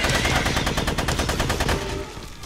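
Turret gunfire in a video game: a rapid, steady burst of automatic shots rattling loudly for about two seconds, then cutting off abruptly into quieter background noise.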